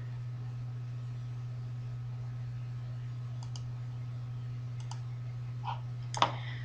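A computer mouse clicks in graphics software while a tartan pattern is being made. A few faint, brief clicks are spread over a steady electrical hum, with the last one a little sharper.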